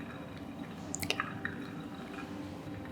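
Hot water poured from a kettle over ground coffee in a paper filter during the final pour up to 500 ml, making a soft continuous trickle with a few brighter drips near the middle, close and fairly quiet, with no talk.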